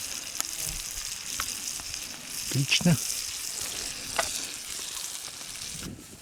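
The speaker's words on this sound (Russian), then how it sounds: "харизочки потихоньку жарятся" Pieces of grayling sizzle and crackle softly in a frying pan outdoors. Quiet talk and a few clinks sit over the frying.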